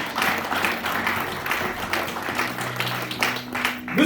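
A church congregation applauds during a service, a broad, continuous patter of hands that swells and thins over sustained background tones.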